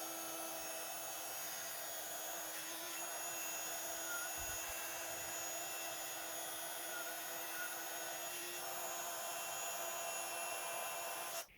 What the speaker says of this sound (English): we're going to heat emboss it from the bottom so they don't all fly away